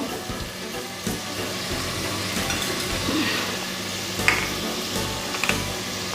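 Peas, capsicum and carrot stirred in hot oil in a pan for soya chunks biryani, a steady close sizzle with a few sharp scrapes and clinks of the spoon, and no voice heard.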